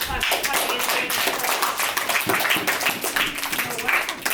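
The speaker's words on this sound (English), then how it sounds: "Let's give them a big clap for coming in." A school class clapping to thank two visitors, a dense, steady round of children's applause at close range, continuing for several seconds.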